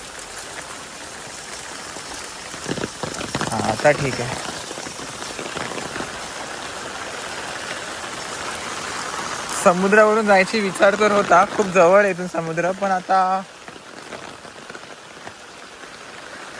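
Steady rain patters on a surface throughout, with people talking over it at times.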